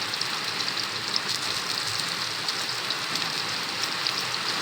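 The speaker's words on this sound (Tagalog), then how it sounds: "pasensya na, lumalakas yung ulan" Heavy rain pours steadily outdoors, a dense, even hiss of drops on surfaces, loud and continuous throughout with no voices.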